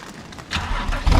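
A Porsche 997.2 911 Turbo running E85 cranks over on a cold start, a brief starter whir that catches and swells into a loud, close engine roar at the end.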